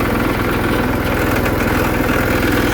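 A 1979 Case 224 hydrostatic riding lawnmower runs at a steady idle, its engine close and loud with an even, unbroken rhythmic chug.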